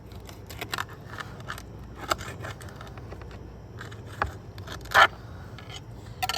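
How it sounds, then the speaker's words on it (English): Cutting the head off a rainbow trout with shears, a series of scattered crisp snips and scraping crunches, with the sharpest cut near the end, close up and alone. "So we're gonna go ahead and cut the head like this."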